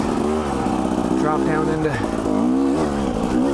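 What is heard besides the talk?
Husqvarna TE300i dirt bike engine revving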